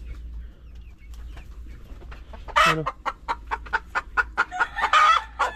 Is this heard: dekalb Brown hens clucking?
yes